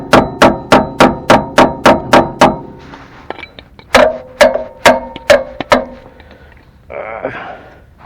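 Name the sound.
hammering on car sway bar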